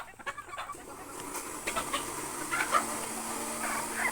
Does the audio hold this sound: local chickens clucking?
yes